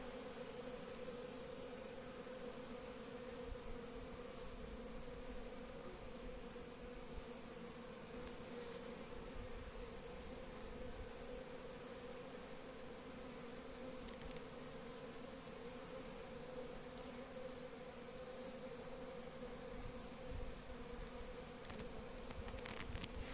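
Honeybees buzzing around a hive, a steady low drone from many bees holding evenly throughout at a soft, moderate distance, with no talk.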